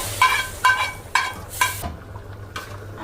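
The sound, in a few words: garlic tempering (baghar) added to cooked beef trotters, sizzling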